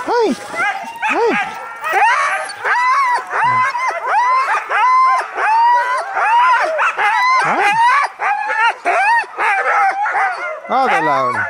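Sled dogs barking loudly and excitedly while being harnessed, a dense, continuous chorus of overlapping barks, yips and whines close by, with people talking among them.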